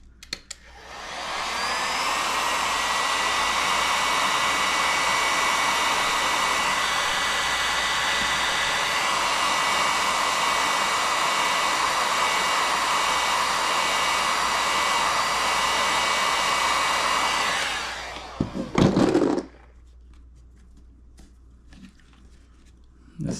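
A heat gun blowing hot air during vinyl wrapping of a Supra, a loud continuous whooshing roar that runs steadily for about fifteen seconds before shutting off, followed by a few clattering handling noises.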